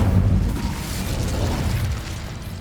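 Fiery blast of the Incendio spell cast in Hogwarts Legacy, a loud, dense rumbling burst with a heavy low end that holds steady and fades slightly over a few seconds, with no talk.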